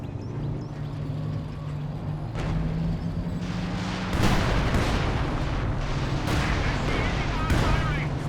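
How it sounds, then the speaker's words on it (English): A walking Stuka artillery barrage in Company of Heroes 2 pounds away as repeated heavy explosions over a dense battlefield din, growing louder partway through. "Walking Stuka barrage is coming in big time"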